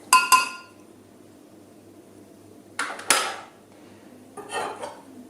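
A spoon stirs a dissolved yeast mixture in a bowl for plain bread, producing three short bursts of bright clinking against the bowl separated by quiet pauses, close up and without talking.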